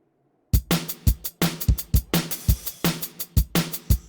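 A basic drum and bass beat, a looped pattern of punchy kicks and sharp snare hits programmed in the VR music app Soundstage, drives quickly and steadily after a brief silence, loud and alone without any talk.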